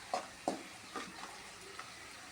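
Onions and tomatoes sauté in a pan for a bitter gourd fry, giving a soft, low sizzle broken by a few light scrapes and taps of the stirring spoon, spaced across a couple of seconds.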